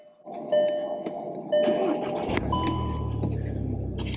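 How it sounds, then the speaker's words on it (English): Chiming warning tones ring twice, then a Volkswagen MK7 GTI engine cranks and catches, settling into a low, steady idle rumble nearby. "Turn the car on."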